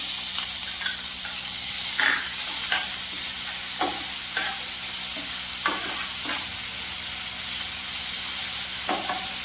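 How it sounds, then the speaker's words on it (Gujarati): Chopped onions hit a hot pan for rava handvo and sizzle steadily, with a few short scraping stirs and clinks breaking through the continuous frying hiss. No voices. "તેમાં આપણે ડુંગળીને નાખી દઈશું."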